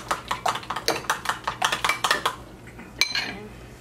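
A whisk clinks rapidly against a bowl while eggs are mixed and tempered for a lemon meringue pie, a quick rhythmic run of light metallic taps that slows and stops, then one sharp clink.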